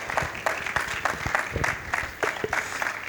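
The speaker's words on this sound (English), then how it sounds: "kindly help me do a round of applause to our panelists" Audience applause for panelists at an energy expo, a steady wash of clapping from a crowd throughout, moderately loud with a few sharper individual claps standing out near the front.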